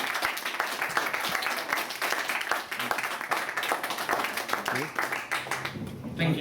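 Applause from a meetup audience at an Unreal Engine event in Rome, dense clapping sustained for several seconds at moderate level, with some voices mixed in.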